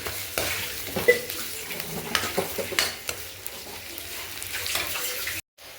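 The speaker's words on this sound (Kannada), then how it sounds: "ಸ್ವಲ್ಪ ಕಾಯಿ ತುರಿ ಕೂಡ ಸ್ವಲ್ಪ ಫ್ರೈ ಮಾಡ್ಕೊಳ್ಳೋಣ." Grated coconut and onion fry in a pan with a close, steady sizzle and repeated scraping stirs, ending in a brief cut to silence.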